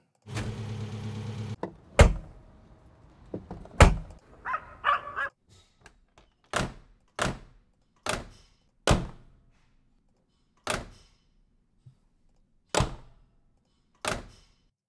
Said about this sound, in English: Let's try car door again.